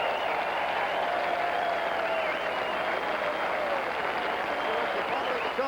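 Large racetrack crowd at the 1973 Kentucky Derby roaring steadily for Secretariat, a dense continuous cheer and applause filling the whole stretch at even loudness, with a broadcast announcer's voice running over it.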